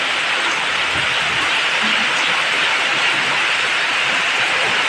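Heavy monsoon rain pours down steadily and loudly, a dense continuous hiss that stays constant throughout with no voices.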